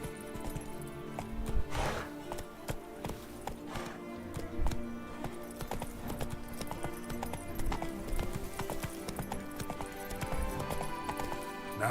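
Roach the horse galloping in The Witcher 3: Blood & Wine, a steady run of hoofbeats drumming on the ground over a game soundscape full of music, with a brief whinny early on.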